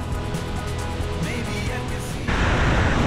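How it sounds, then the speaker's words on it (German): Stora Sjöfallet, a large waterfall, roars as a steady, dense broadband rush that continues unbroken throughout and grows slightly louder near the end. "Es ist auf jeden Fall noch ein heftiger Wasserfall, muss man sagen."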